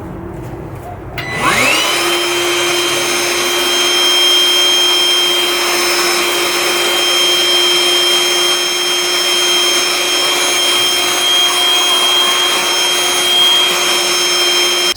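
A Ryobi One+ 18V cordless wet/dry shop vacuum starts up and runs at a steady, loud whine with a constant motor hum and airflow rush, sustained alone without speech.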